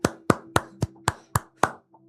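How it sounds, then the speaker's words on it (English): A short burst of hand clapping used as an applause sound effect during a futures day-trading stream: seven or eight sharp, evenly spaced claps, close and fairly loud, with a low steady hum underneath and no talk. "This person is gonna get a round of applause."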